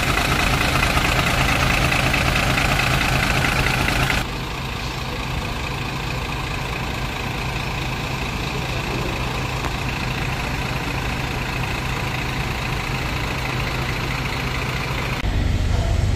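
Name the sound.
bus engine idling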